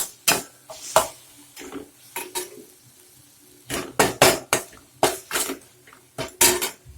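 Coriander roots sautéing in a pan for neem flower rasam, heard as sharp metallic clanks and scrapes of a spoon stirring against the pan in irregular bursts, close and clear, with little sizzle beneath.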